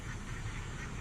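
Ducks quacking close by on or beside railway tracks, a dense steady flock noise with continuous overlapping calls through the short moment.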